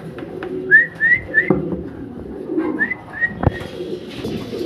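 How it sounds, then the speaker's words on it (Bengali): Several soft whistled coos from a pair of white German Beauty Homer pigeons, close by in a loft, with quiet shuffling and a few clicks between the calls. "এই white colour full running German beauty Homer এই পেয়ারটা"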